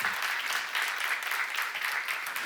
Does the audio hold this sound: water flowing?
no